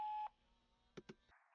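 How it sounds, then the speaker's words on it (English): An automatic voicemail system gives a clear electronic beep tone, followed by a short silence, two brief clicks and a second tone starting at the end. "Leave your message after the beep."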